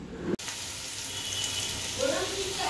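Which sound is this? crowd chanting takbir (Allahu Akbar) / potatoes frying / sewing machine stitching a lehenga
potatoes frying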